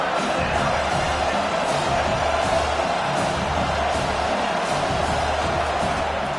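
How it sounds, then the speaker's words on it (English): Stadium crowd cheering on third down in an NCAA football video game, a steady loud roar of many voices building gently throughout, with no clear words over it. "Decibels rising as the crowd gets behind this defense on 3rd down."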